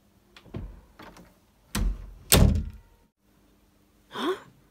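A door closes with a few soft thumps and knocks followed by two louder solid bangs, then a quick sliding scrape, heard close in a quiet indoor room with no talking.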